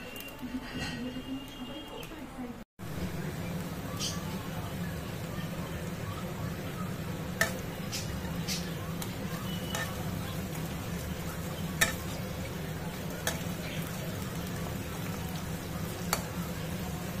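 Onion, garam masala and bay leaf fry in hot oil with a steady, close sizzle and scattered sharp pops, briefly interrupted early on, then continuing evenly.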